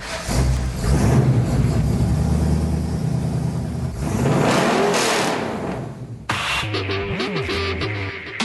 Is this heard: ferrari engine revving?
yes